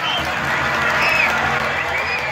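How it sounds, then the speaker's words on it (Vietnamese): Steady applause from an audience at a traditional village festival evening performance in Đào Xá, Vietnam, dense and continuous for the whole stretch with a faint crowd murmur beneath. "xin một tràng pháo tay để nhiệt liệt cổ vũ cho tinh thần âm nhạc"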